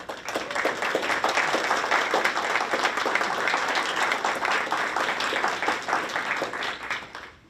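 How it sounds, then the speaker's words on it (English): A room at a school district board meeting gives steady, moderately loud applause for the school board members, with many hands clapping throughout before it tapers at the end. "We can give a round of applause to our school board members"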